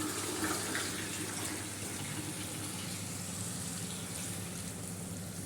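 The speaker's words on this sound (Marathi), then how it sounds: "आता त्याच्यावरून थोडं पाणी टाकायचं आहे" Water is poured steadily over chicken cooking in a pan, making a continuous, even splashing rush that runs for several seconds with no talking.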